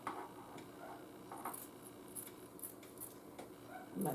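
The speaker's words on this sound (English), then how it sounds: "I'm going to cut this out, open it up" Scissors snipping through a disinfecting wipe to trim it to length, giving a series of small, crisp cuts and rustles at close range with a faint room hiss and no speech.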